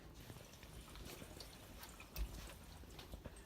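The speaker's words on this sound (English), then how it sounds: "we'll give it another flush and look at it." A toilet flushing after its new fill valve has been adjusted, a steady rushing and pouring of water throughout with a brief louder gurgle midway, close and unaccompanied by talk.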